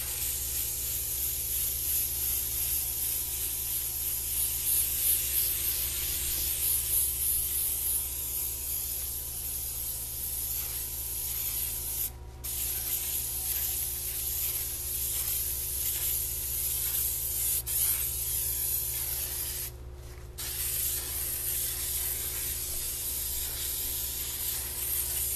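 An aerosol can sprays a coat onto fillable glitter ornaments in one long continuous hiss, close and steady, with two brief pauses near the end.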